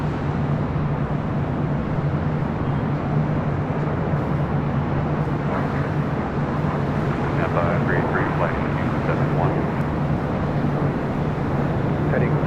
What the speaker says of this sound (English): It's a 777 freighter flying directly over us here.